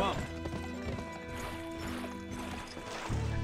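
Horse hooves clip-clop in the video game Gun, a steady rhythmic patter under continuous speech and game sounds, moderately quiet.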